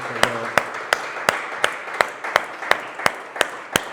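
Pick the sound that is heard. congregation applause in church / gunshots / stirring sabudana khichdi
congregation applause in church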